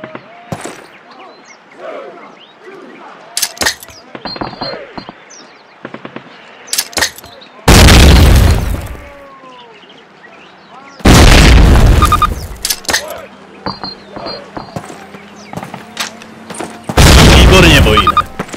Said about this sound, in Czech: Hoďte granát do všech 3 otvorů před vámi.